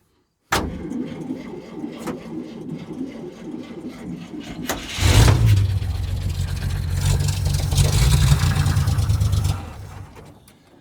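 A 1947 International truck engine on choke cranks over, fires up and runs with a heavy, low rumble for several seconds before cutting out, close to the microphone.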